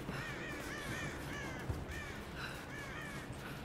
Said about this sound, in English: There are a lot of damn birds around here.